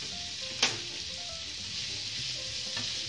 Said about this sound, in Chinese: 再翻炒片刻